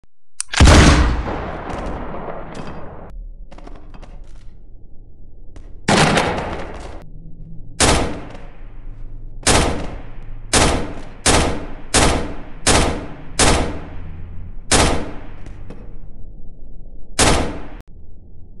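Gunfire in the Melon Playground sandbox game during a city raid: an opening blast and scattered bursts, then a series of sharp, evenly spaced single shots cracking out loud and close, with no talk.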